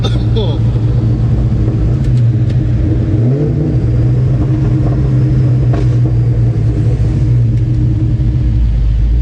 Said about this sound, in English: Let's get some downshifts, boys. Get a little third gear.